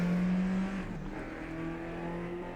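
A BMW race car in a RaceRoom DTM 1992 replay on the Nordschleife holds a steady, buzzing engine note that drops in pitch partway through, then settles into a sustained drone. The sound is close and continuous, with no talk.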